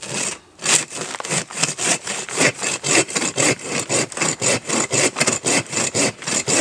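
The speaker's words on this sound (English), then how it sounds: "using the bow saw, I'm going to select a slice" Rhythmic back-and-forth bow saw strokes rasp steadily through a pot-bound plant's dense root ball, close and loud, after a brief pause near the start.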